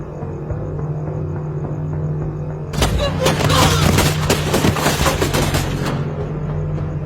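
Gunfire erupts in a Hindi film scene of a raid on a village, a loud dense burst of rapid shots lasting about three seconds over a steady background hum, then fading back to the ambient drone.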